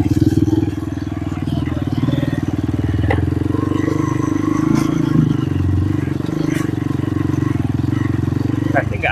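A motorcycle rides a narrow single-track footpath toward a waterfall in Wonogiri, its close, loud engine pulsing steadily throughout with scattered clatter and scraping from the rough path.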